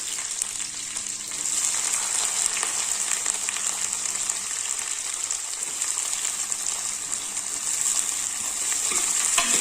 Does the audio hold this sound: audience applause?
no